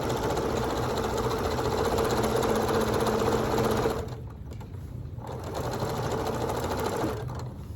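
A sewing machine hums and rattles steadily while stitching quilt block pieces together, loud and close, stopping briefly midway before the motor runs again.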